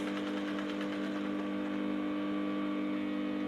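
A sewing machine stitches corset boning casing, giving a steady, low, even hum with a faint rapid rattle at the start, running continuously and quietly with no talk.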